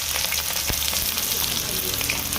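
Onion and chili fry in hot oil in a pan while a fish sambar is made, giving a loud, steady, close sizzle with a few brief stirring clicks.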